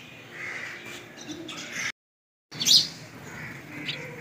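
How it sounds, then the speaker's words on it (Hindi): Birds call outdoors in the morning, crow-like caws and chirps repeating at moderate distance over a steady background hiss, with a brief gap of silence midway. "ये सारी चिड़िया अभी सुबह सुबह बाहर आ जाती हैं"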